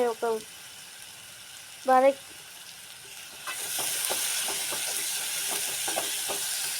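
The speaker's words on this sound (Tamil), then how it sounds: "வெங்காயம் நல்லா பொன்னிறமாக வதங்கிடுச்சு" Onions sauté until golden in a pan for chana masala, a steady close sizzle that sets in partway through with light stirring clicks; brief vocal sounds occur before the frying rises.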